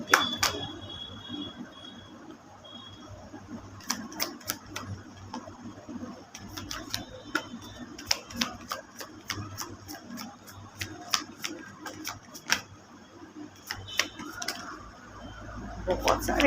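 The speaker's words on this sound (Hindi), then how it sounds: "let's take a full shuffle" A deck of tarot cards being shuffled by hand, heard as many quick, light riffling clicks and taps in an uneven patter close by, with a faint voice now and then underneath.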